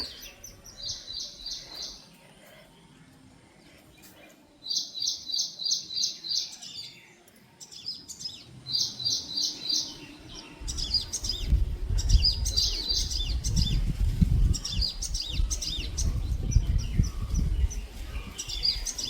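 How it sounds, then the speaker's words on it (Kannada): Birds chirp and call in repeated bursts of bright tweets, fairly close at first, then a busier mix of calls over a louder low rumble of background noise toward the end. "ಪಕ್ಷಿಗಳು ಎಷ್ಟು ಚೆನ್ನಾಗಿ ಶಬ್ದ ಮಾಡ್ತಿದೆ ಅಲ್ವಾ, ಅದ್ರ ಕೂಗು ಎಷ್ಟು ಚೆನ್ನಾಗಿದೆ ಅಲ್ವಾ"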